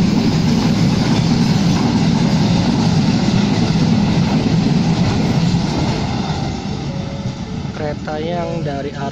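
A train rumbles steadily past close by at Kebasen station with a broad, continuous roar and faint rhythmic clatter; a voice starts talking near the end.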